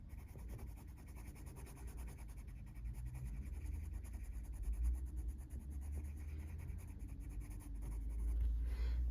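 A cream 102 coloured pencil softly scratches across paper to soften edges on a sprinkle cupcake colouring page, a faint, steady close-up rasp with slight swells in pressure and no voices.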